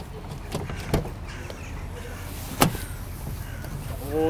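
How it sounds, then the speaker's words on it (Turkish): The rear cargo door of a Hummer H2 opens with a couple of distinct latch clicks and thumps over a low background hum, followed by a faint whirring mechanism near the end. "Bagajı açıyorum."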